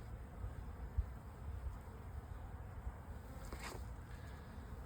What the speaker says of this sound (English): These are really good bees.